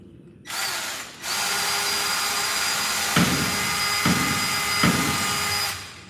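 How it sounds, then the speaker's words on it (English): A power drill bores out wood in a garage loft to clear holes for screws: a brief spin-up, then a sustained loud whir broken by a few bumps as the bit bites, close by. "I haven't drilled this one out yet."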